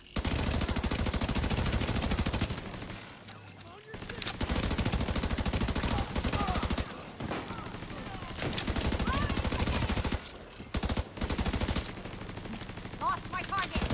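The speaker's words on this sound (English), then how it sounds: "My turret here." An automated turret in The Division video game fires in long, loud sustained bursts of rapid gunfire, with brief pauses between volleys over about fourteen seconds.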